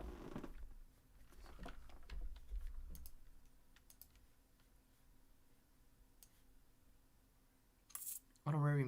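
Rapid keystrokes on a computer keyboard clatter close by in quick irregular bursts during the first few seconds, thinning to sparse taps, with a louder knock near the end.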